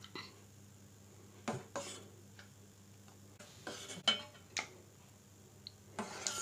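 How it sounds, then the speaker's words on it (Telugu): Semiya payasam being served into a bowl: scattered soft clinks and taps of a spoon against the bowl, with a quiet, steady background hum. "ఇప్పుడు ఒక బౌల్లోకి పాయసం తీసుకుందాం."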